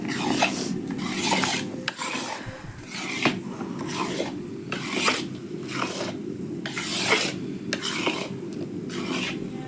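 Panjeri ingredients being mixed in a pan over low gas for a postpartum sweet, a steady rhythmic scraping and rasping of spoon on metal that repeats throughout, close and fairly loud, with no talking.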